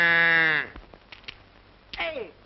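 Sheep bleat loudly and close at the start, a long wavering cry, then a pause with faint knocks before a second, shorter bleat near the end, in an old 1933 film scene of a flock being attacked.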